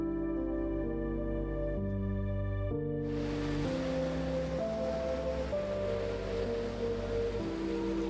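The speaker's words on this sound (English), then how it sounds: "the rhythmic crash of waves" Ocean waves on a secluded, rugged Atlantic Canada beach make a continuous wash of surf, with a steady mid-level roar under a soft background tone that fills in brighter after a few seconds.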